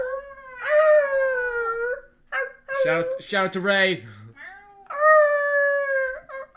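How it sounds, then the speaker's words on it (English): A dog gives a long, wavering howl, then yelps and whines, and the howl rises again. The sound is close and loud, and people talk and laugh around it. "That was a dog."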